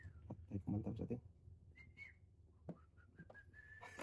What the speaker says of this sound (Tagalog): Pito na.